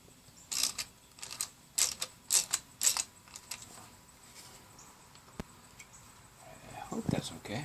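A 3/8 inch socket ratchet clicks in short bursts of sharp, close pawl ticks while turning a bolt on a Ruger 10/22 rifle stock, followed by quieter handling noises and a brief voice near the end.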